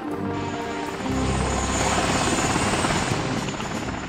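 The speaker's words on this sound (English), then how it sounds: "So here's the helicopter now hovering." A helicopter hovers in the video game MOWAS2, its steady rotor and engine drone filling the clip without a break, swelling a little louder after the first second and holding close and even to the end.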